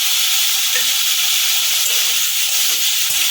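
Eggplant and grated tomato fry in oil, a close, even sizzling hiss with faint intermittent scraping of a spatula underneath.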